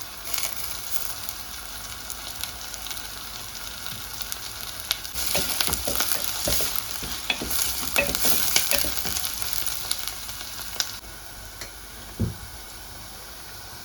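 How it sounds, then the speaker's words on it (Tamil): Curry leaves dropped into hot oil for tempering a bitter gourd curry, a continuous crackling sizzle with denser bursts of popping and spitting in the middle stretch, close and fairly loud, no voices. "தாளியத்துக்கு கொஞ்சம் கருவேப்பிலை போடுவோம்."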